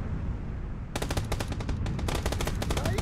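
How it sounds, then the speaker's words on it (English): Rapid bursts of automatic gunfire from a multiplayer shooter video game, loud and close after a brief quiet start, then crackling on in dense repeated volleys. "He's shooting up from the left."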